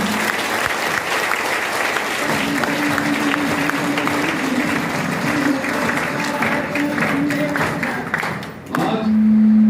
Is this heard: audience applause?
yes